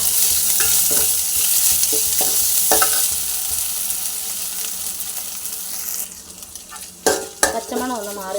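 Cabbage stir-fries with ginger garlic paste in a hot pan, giving a loud, steady sizzle under brisk stirring, with sharper spatula scrapes and clinks near the end.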